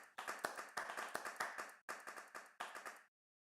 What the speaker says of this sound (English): I would like to give a round of applause to Hugo